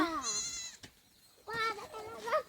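Goats bleat on a village farm in two loud, wavering, harmonic calls separated by a brief pause, close by, with a second animal bleating over the first.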